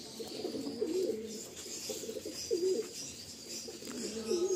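Pigeons kept by a seller of high-quality flying pigeons in Garia, Kolkata, coo in three soft, rolling phrases spaced a couple of seconds apart, close by over a faint steady background hiss.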